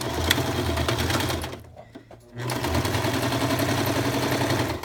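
Sewing machine running a straight seam across fabric for organic booties, a loud steady mechanical hum that cuts out briefly midway, then resumes.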